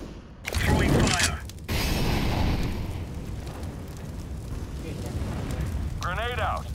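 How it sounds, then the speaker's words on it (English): Molotov fire grenade in CS:GO: a loud whooshing burst of flame followed by a sustained crackling roar of fire, with a short chirpy mechanical sound near the end and a voice speaking in places. "Throwing fire."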